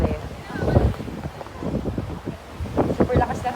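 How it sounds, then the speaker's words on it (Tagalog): Strong wind buffets the microphone in gusty, rumbling bursts, with waves or water faintly audible in the background, in Batangas, Philippines. "Super lakas ng hangin as in."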